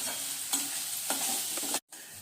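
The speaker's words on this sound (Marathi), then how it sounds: "आता हा गव्हाचा भरडा आपण छान लालसर असा तुपात भाजून घ्यायचा" Cracked wheat roasting in ghee, stirred with steady scraping strokes over a soft continuous sizzle, close up with no voices, briefly cut to silence near the end.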